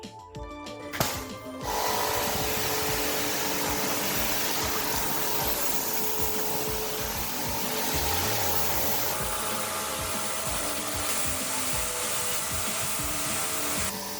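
A Makita pressure washer motor runs in a steady, fairly quiet hum with a hissing, pumping texture, going on without a break after a brief click at the start.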